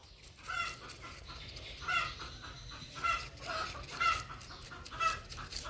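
A hen clucks in short, repeated bursts about once a second, fairly close and clear over a quiet background.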